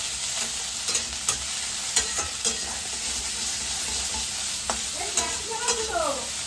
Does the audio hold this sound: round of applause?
no